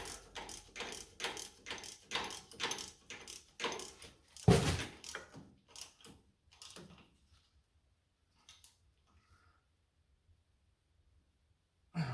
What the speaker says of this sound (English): we'll take our 7/8, snug it all the rest of the way down